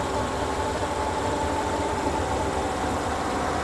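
A Yamaha 40H outboard motor on its very first start, running on break-in gasoline and smoking heavily, holds a steady, loud idle with an even mechanical drone and no talking.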